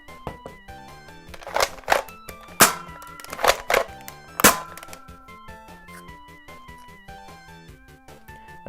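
A Buzz Bee Sonic 6 toy blaster fires darts in sharp, close, percussive cracks, several shots in quick succession over a few seconds, set against quiet background music.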